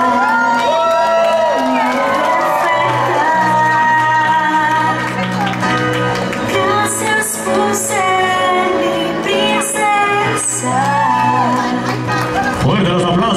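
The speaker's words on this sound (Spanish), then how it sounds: "así que fuertes los aplausos para ellos," Crowd at a quinceañera celebration cheering and applauding for the newly crowned girl, a loud sustained mix of shouts, whoops and clapping over music, with voices throughout.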